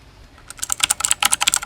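Keys on a mechanical keyboard with its original switches pressed one after another after a brief silence, a close, loud, rapid run of crisp clacks with no talking.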